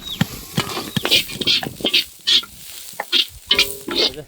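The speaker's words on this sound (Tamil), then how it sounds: "சப்பாத்தி கல்லிக்கு சும்மா வெங்காயத்தை போட்டார், எல்லா ஐட்டத்தை உள்ளே இறக்கிறாரு." Onions frying for a spiceless thokku of spineless prickly pear cactus, heard as a steady sizzle broken by repeated stirring scrapes and clatters in the pan.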